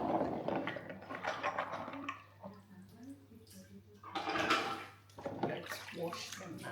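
Tap water runs and splashes as dishes are washed in a home kitchen, a close, uneven gush that swells and eases, with a voice talking over it and a low steady hum beneath.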